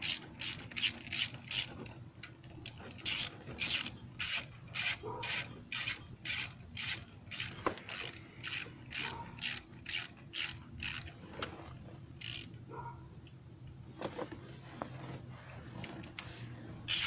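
A hand ratchet tightens the camshaft bolts on a Suzuki Grand Vitara 2.5/2.7L engine, a close series of quick, sharp clicking bursts in a steady rhythm, with brief pauses between them and no talking.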